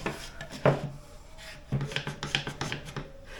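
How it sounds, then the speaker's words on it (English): A jigsaw cuts a circle for a boat's port lights, giving short rasping bursts and then a steadier run of rapid, gritty strokes close to the microphone. "the next step will be to cut this circle, and we're going to, as I said, use a jigsaw for that"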